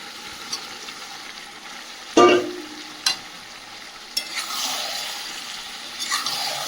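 Fried potatoes go into a pan of chicken curry, bringing a soft continuous sizzle broken by a few sharp clanks and scrapes of stirring, then a louder hiss near the end.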